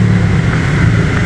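A Nissan Livina automatic's engine drones steadily and loudly at idle with a deep low hum, no talking.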